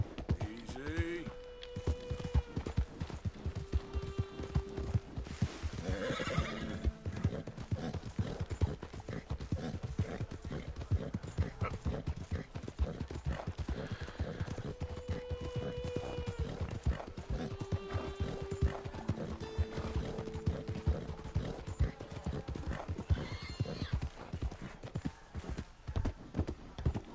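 Horse hooves clip-clop steadily and fairly close throughout a Red Dead Redemption 2 scene, with brief whinnies and other game sounds in the mix.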